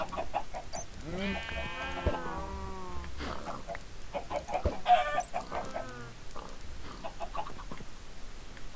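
Chickens clucking in the Minecraft video game, a busy cluster of short clucks and squawks repeating throughout, moderately loud, with other farm animal sounds mixed in and no talking.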